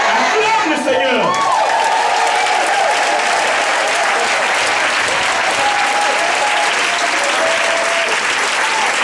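A church congregation applauds loudly and continuously, close and dense, with some voices and cheers mixed into the clapping.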